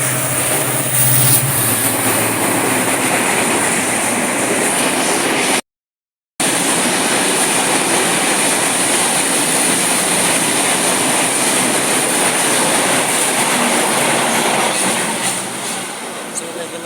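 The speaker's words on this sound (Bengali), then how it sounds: "এই দেখেন আপনাদের ট্রেন।" A train passes close by a rail gate at Gopalpur: a loud, continuous roar of wheels and carriages with rattling clatter that runs for the whole stretch, broken once by a brief gap of silence.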